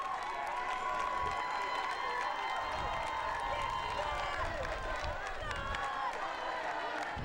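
A home crowd at a 2012 Florida high school boys lacrosse final cheers steadily, a continuous roar of voices with scattered shouts and clapping, with a commentator talking over it.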